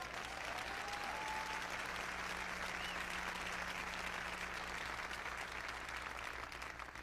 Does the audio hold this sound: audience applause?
yes